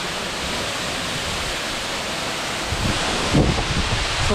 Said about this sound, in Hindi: तो मैं अभी फिलहाल झरने के बिल्कुल पास पहुंच चुका हूँ